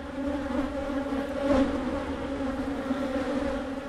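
Honey bees buzzing around an opened hive, a dense continuous hum from many insects close by, steady with a brief swell in the middle and no voices.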